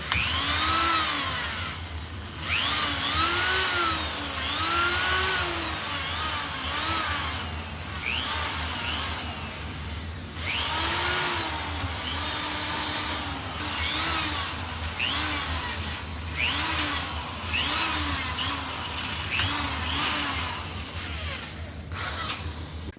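A cylinder hone works inside the bores of a Ford 289 V8 engine block, taking them .010 oversize. It gives a loud continuous machine whine with cyclic rising and falling strokes over a steady motor drone.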